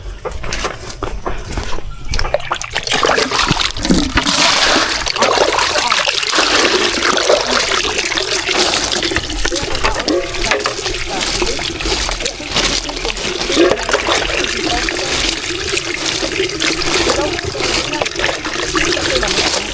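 Water splashes and patters continuously as it sprays onto the ground while watering a dwarf coconut farm on former rice field, a loud, steady spray lasting throughout.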